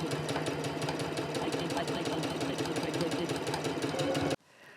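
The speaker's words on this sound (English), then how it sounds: "Now we're going to take it to the sewing machine and we're going to sew around that circle" A sewing machine stitches around a fabric circle in a steady, rapid mechanical rhythm, loud and continuous for over four seconds before stopping abruptly, leaving a quieter room.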